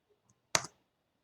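A single sharp key press, the Enter key on a computer keyboard, lands as one close, crisp click in near silence, preceded by two very faint ticks.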